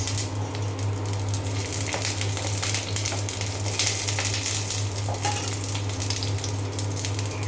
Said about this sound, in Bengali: তেল গরম হয়ে গিয়েছে। আমি এখন দিয়ে দেবো 2টা শুকনো মরিচ।